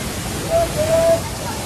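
Tapalwadi Waterfall near Neral, a steady broadband rush of falling water that fills the whole clip evenly, with a faint crowd murmur underneath.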